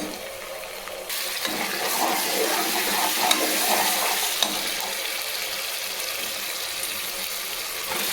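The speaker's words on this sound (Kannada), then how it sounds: "ಇವಾಗ ಶುಂಠಿ ಬೆಳ್ಳುಳ್ಳಿ ಪೇಸ್ಟು ಹಿಂಗೆ ಬಿಸ್ಕೊಳ್ಳೋಣ." Ginger garlic paste frying with onions in a pan, a steady close sizzle with stirring scrapes that starts about a second in and runs to the end, with no talk.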